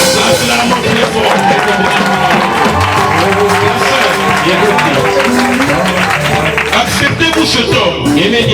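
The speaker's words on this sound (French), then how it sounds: "Acclamons très fort." A wedding congregation applauds inside a church, loud and steady, with clapping and crowd noise filling the whole stretch and voices mixed in.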